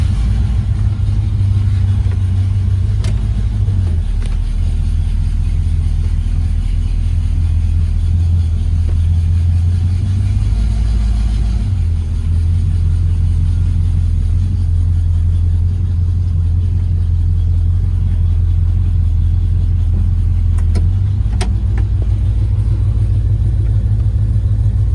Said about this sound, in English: I'll start up and let you listen to it.